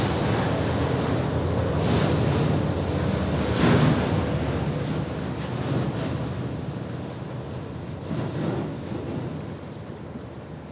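Sturdy boat breaking through sea ice off northern Norway: a continuous, loud, broad rushing and grinding roar with surging swells, like heavy water and wind, with no talking.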